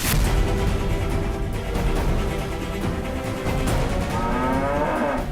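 A buffalo moos loudly and steadily, its low, drawn-out lowing filling the whole stretch with no talk over it.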